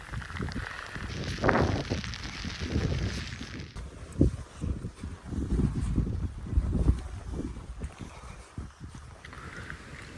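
Heavy rain patters and rushes over the microphone amid gusty wind on a hiking trail, with heavy low buffeting and occasional sharper drops throughout.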